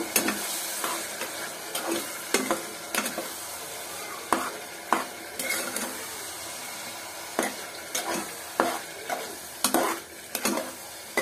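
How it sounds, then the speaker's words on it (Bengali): Beef stir-fried in a pan with ground spice mix and ginger, a steady sizzle and frying hiss broken by repeated scraping strokes of a spatula against the pan, close and moderately loud with no talking. "সবগুলো এখন ভালোভাবে কষায় নিতে হবে।"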